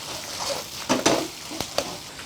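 Ginger, scallion and garlic stir-fried in a wok over high heat, giving a low sizzle broken by a few sharp scrapes and tosses of the spatula against the pan.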